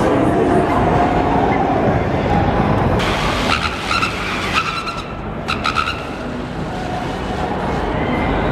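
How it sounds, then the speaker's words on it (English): A car burning rubber, its tires screeching and skidding in a loud, continuous squeal with engine roar that shifts and surges partway through. "Damn, he's burning rubber or something."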